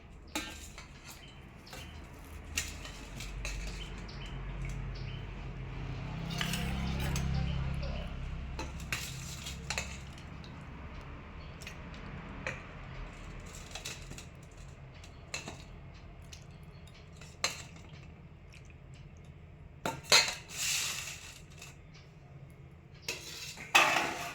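Dishes and cutlery clink and scrape intermittently while rohu fish curry made with papaya and potato is served, with sharp clatters scattered through the stretch and someone speaking softly at times.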